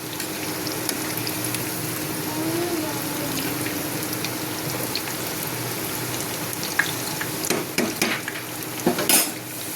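Onion fritters (piyaji) frying in hot oil give a steady sizzle throughout, with occasional stirring clinks and a louder clatter near the end.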